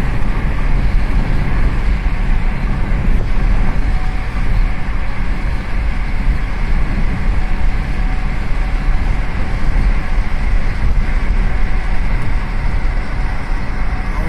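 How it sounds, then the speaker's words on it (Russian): A Tashkent metro train passes, a loud, continuous low rumble and roar that holds steady throughout, mixed with city traffic. "Вот как раз метро идет."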